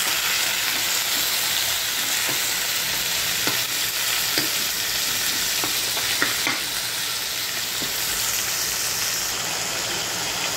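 Pork added to a pan of garlic, frying and being stirred: loud, steady close sizzling throughout with occasional soft scrapes and clicks of a utensil.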